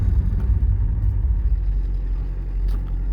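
A 1983 Porsche 944 pulling away, its engine a steady, loud low rumble close to the microphone with little variation.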